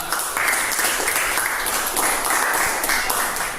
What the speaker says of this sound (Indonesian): Kepadanya kita berikan tepuk tangan.